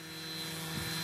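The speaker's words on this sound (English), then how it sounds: "When I play this video, you hear David's voice say, enable control, and that's when his program takes over this helicopter." A small autonomous model helicopter in flight, its steady engine and rotor drone continuous and fairly distant, holding at an even level throughout with no talk over it.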